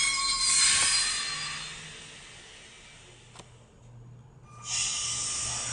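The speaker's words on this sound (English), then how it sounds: "is making those chug noises, and the train's going around the train station" A LEGO Disney train set modeled on the Disneyland Railroad runs with its electronic chugging sound effect, a steady hissy chug that fades mid-way, briefly drops out, then resumes loudly near the end.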